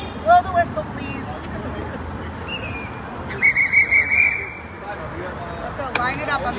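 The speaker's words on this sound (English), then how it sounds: "Blow the whistle, please." Short whistle blasts at an indoor sports practice, a quick one early, then a longer trilling series of blows in the middle, heard over the babble and chatter of players in a large echoing space.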